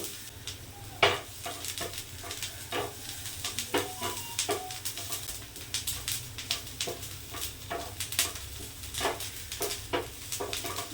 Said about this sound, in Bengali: লাল লাল একটা ভাজা ভাজা ভাব আসছে ততক্ষণ বন্ধুরা এরমভাবে ভাজতে থাকবেন